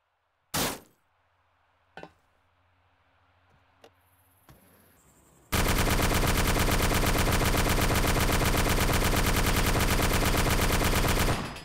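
A few isolated loud shots ring out, then a sustained rapid stream of heavy vehicle-mounted cannon fire in DayZ Epoch hammers continuously for several seconds.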